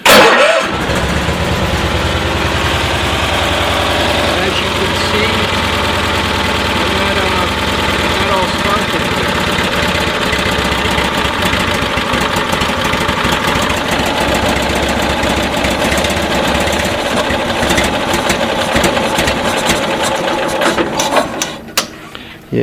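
A 1972 Cushman Truckster engine, its ignition just fixed, cranks and catches, then runs with a loud, steady, slightly rough idle while cold, close up and unbroken for over twenty seconds.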